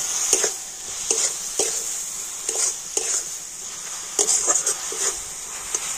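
A spoon stirs a sugar, coconut and milk powder filling in a pan, producing intermittent scraping and soft clinking strokes in irregular bursts, close up over a faint background hiss.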